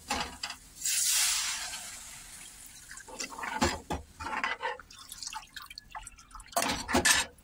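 Water is poured into a cooking pan of fried onion and turmeric in a brief splashing gush, followed by scattered drips, clinks and light handling noises, close and fairly quiet.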